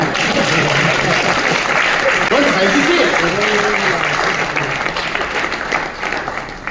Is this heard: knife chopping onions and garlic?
no